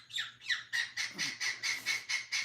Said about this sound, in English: What kind of bird is it? It's a cockatiel.